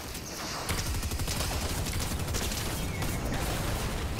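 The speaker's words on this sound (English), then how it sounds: "that person got smacked by the shotgun as well, and then the other one with a rocket" Dense close gunfire and explosive bursts from shotgun and rocket fire in Fortnite, packed into a continuous loud barrage with sharp repeated cracks.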